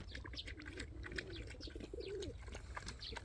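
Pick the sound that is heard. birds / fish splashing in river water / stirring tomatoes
birds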